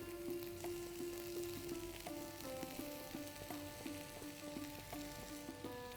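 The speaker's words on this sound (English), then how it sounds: "Now I'm going to add the cooked rice" Cooked rice tossed into a pan of spice-coated tofu and broccoli for a Korean-style fried rice, with a steady sizzle and light stirring scrapes and a faint tonal hum behind, no talking.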